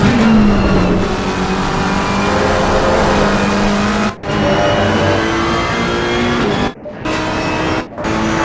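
GT race cars in the Assetto Corsa Competizione racing game, on a German circuit, brake and battle for position. Their engines drone loudly and continuously with shifting pitch, broken by a few short dropouts near the end.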